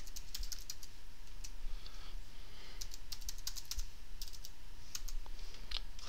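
Steady typing on a computer keyboard while entering login credentials for a Windows server, crisp close key clicks in quick irregular runs with no talk.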